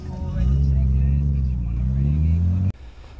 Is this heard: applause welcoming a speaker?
no